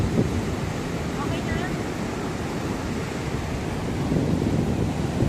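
Big ocean waves breaking at a Hong Kong beach along a trail, a continuous loud wash of surf mixed with gusty wind buffeting the microphone.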